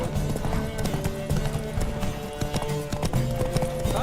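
Rapid hoofbeats pound in a steady galloping rhythm in The Witcher 3, loud and close, with a brief whinny and layered game sound effects underneath.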